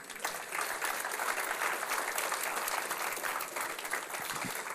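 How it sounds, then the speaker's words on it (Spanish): A church congregation breaks into applause during a Spanish-language sermon, a dense, continuous roar of clapping from many people that holds steady throughout. "Denle un aplauso al Señor."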